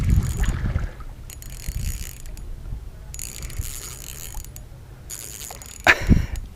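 Fishing reel drag clicks in ratcheting bursts while a smallmouth bass pulls line on Lake Havasu, heard close from a boat with water and wind noise around it.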